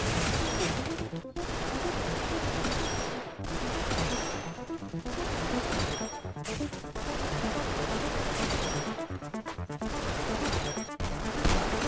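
Gunfire from a custom-built gun in a video game, dense rapid bursts of loud shots in several long volleys separated by brief pauses, close and continuous.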